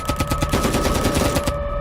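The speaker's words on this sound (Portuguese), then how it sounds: "Os tiros começaram sem aviso." A rapid burst of automatic gunfire in a documentary reconstruction of armed men raiding a house, loud, close, evenly spaced shots rattling for about a second and a half before cutting off.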